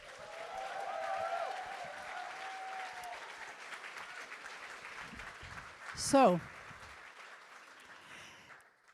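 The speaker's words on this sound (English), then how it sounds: "Let's give them one more round of applause" An audience at a Nordic larp talks event gives a round of applause, a moderate wash of clapping that swells then tapers, with a voice speaking briefly near the end and a loud burst of vocal noise over it.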